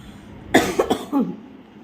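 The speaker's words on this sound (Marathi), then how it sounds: "मला खोकला येऊ राहिला मिरच्यांनी" A single short fit of coughing, three or four quick rough bursts close by, then quiet.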